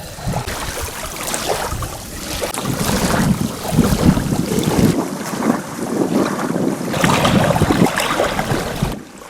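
Strong wind buffeting outdoors by the Dnipro River in loud, gusty rumbles that swell and ease, with a faint watery wash beneath; no talking.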